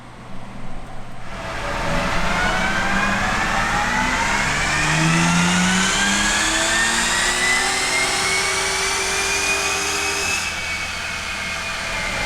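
Tuned twin-turbo W12 Bentley Bentayga pulling in third gear on a dyno, a loud engine roar climbing steadily in pitch for about nine seconds before cutting off, with no one talking.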